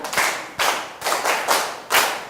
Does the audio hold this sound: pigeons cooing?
no